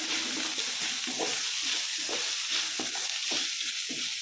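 Crushed ginger and garlic fry in a pan as a chicken roast masala is cooked, giving a steady close sizzle with intermittent stirring scrapes throughout, no voices.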